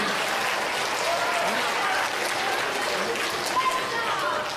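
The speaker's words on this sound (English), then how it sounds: "big round of applause to the people behind you" Kids in a school audience clap for their parents and grandparents at an event, a steady round of applause filling the room with a murmur of voices underneath.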